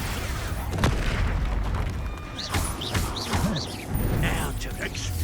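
Spell blasts from the Hogwarts Legacy video game: several loud booming impacts with swooping magical whooshes, overlapping in a busy combat mix with a steady rumbling background.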